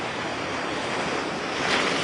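Big ocean waves, higher than a person, crash and wash continuously onto a beach, a dense close roar with wind noise on the microphone, rising slightly toward the end.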